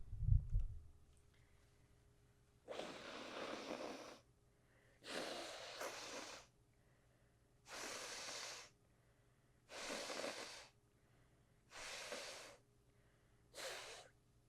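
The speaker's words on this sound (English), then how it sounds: "I'm about to blow my nose very heavy." Six heavy, noisy nose blows, each about a second long and spaced evenly by short pauses, loud and close, with no talking.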